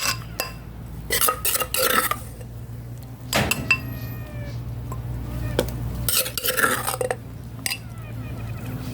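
Utensils stir and clink against pots and dishes as a three-flavor dipping sauce for fried fish is ladled into a bowl, with scattered scrapes and taps close by, no talking.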